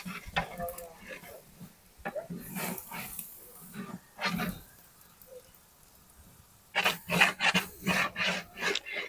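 Spoon scraping and rasping against a pot while stirring chicken biryani masala with tomato, green chilli and yogurt, in uneven bursts of strokes that grow denser and louder near the end, with a few spoken words early on.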